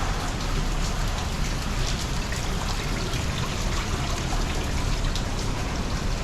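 Rain falls steadily on streets and surfaces in Taipa Village, Macau, giving a dense, even hiss of drops with no voices.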